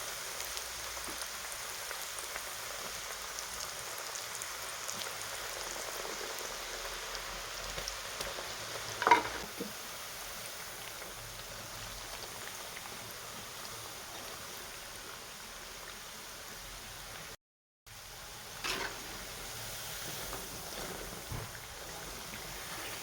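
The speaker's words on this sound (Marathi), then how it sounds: "अजून आपल्याला एक ते दोन मिनटं अजून छान तळून घ्यायचं आहे" Dal baati dough balls deep-fry in a batch of hot oil, making a soft, continuous bubbling sizzle like light rain, steady and fairly quiet, with a brief gap and no speech.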